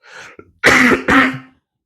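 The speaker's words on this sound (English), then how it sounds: "I've still not got rid of the cough from a couple of weeks ago." A man clears his throat and coughs, a lingering cough from weeks before: a short rasp followed by two loud, close, harsh bursts, then silence.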